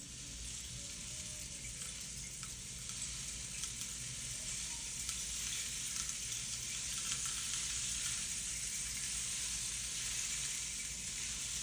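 A rainstick turned continuously in a clockwise motion, its falling beads making a dense, steady hiss like pouring rain, even and unbroken from start to finish with no talk over it.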